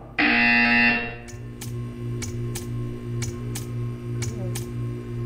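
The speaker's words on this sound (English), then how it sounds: "You will hear a buzzer. When you hear the buzzer, stare at the art." Loud sustained buzzer tone in Portal 2 lasting about a second, followed by a low electronic hum and a series of short sharp clicks spaced roughly half a second apart.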